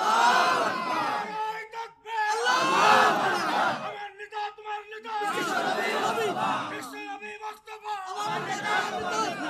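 A large religious gathering chants slogans in unison, with loud call-and-response bursts of many voices roaring in rhythmic waves separated by brief pauses, carried over a public address system.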